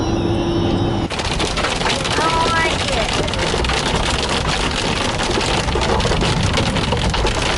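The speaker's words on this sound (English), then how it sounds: "It's hailing." Hail pelts a car while it is being driven, a dense, steady drumming and rattling across the body and glass that sets in abruptly after a quieter first second and stays loud and relentless.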